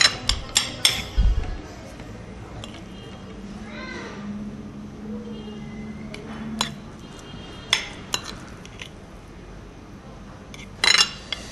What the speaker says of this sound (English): I'm going to spoon it back in now